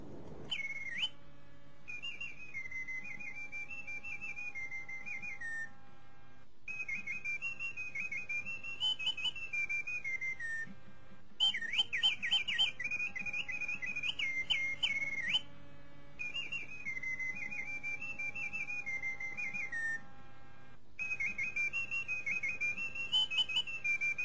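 Bellows in the grip drive the metal hummingbird of a mechanical singing-bird automaton pistol, which sings in repeated bursts of warbling, trilling whistles separated by short pauses; the song is clear, close and heard alone.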